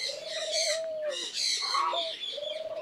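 A dove coos near a nest, a close, soft sequence of low rounded notes repeated several times in quick succession, clear and alone.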